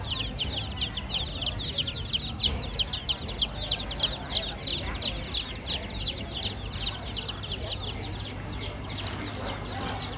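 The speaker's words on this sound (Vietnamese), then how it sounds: "Này có bán gà con nữa nè cô chú anh chị mình." Baby chicks for sale at a riverside market, peeping in a rapid, regular series of high chirps that carry on for several seconds over a low market murmur and occasional speech.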